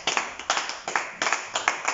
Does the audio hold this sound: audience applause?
yes